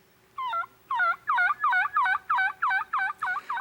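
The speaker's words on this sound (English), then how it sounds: "Turkey decoys and turkey calls bring in gobblers." Wild turkey gobbler call sounding as about eight rapid, evenly spaced yelping notes, loud and close, repeated in a steady rhythm without pause over a faint low hum.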